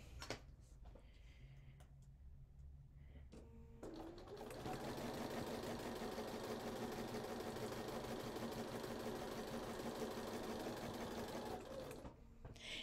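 Sewing machine chain stitching quilt block pieces: a few short taps and clicks, then a long, fast, even whirring run of stitches before it stops, quiet and close.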